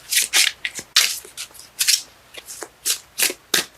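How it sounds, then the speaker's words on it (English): Cards are shuffled in quick repeated riffles, crisp papery bursts coming in an uneven rhythm, close and fairly loud with no talking. "Cards let me know when they're done shuffling"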